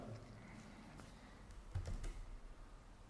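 Keys clatter on a computer keyboard while a Linux terminal command using sudo is typed. The taps are soft and irregular, with a slightly louder cluster midway through.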